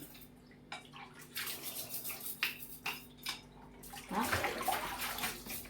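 Running water and clinking dishes come in bursts as dishes are washed, growing into a steadier splashing flow near the end, with a brief voice.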